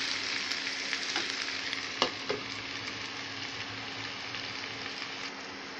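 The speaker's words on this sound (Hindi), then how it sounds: "थोड़ा सा ये भून जाए, एक मिनट तक हमें इसे भून लेना है इस तरह से।" Masala sizzles steadily while frying in a pan for an Indian aloo tamatar sabzi, a continuous crackling hiss with a couple of soft stirring knocks and no talk.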